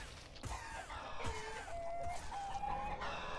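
A flock of chickens clucks and squawks in a video game battle against an elephant, with busy overlapping calls and some higher cries over constant game noise, no talking.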